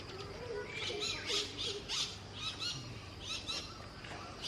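Wild birds call from trees at Thattekkad bird sanctuary in Kerala, a faint, distant mix of repeated chirps and squawks over a soft background hum.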